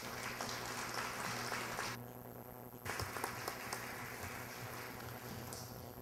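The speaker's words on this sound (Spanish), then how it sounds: "Pido que lo recibamos con el aplauso de todos los presentes." Audience applause at a municipal prize-draw ceremony in Miraflores, Lima, welcoming a speaker; a steady, fairly faint wash of clapping with a brief drop partway through before it resumes.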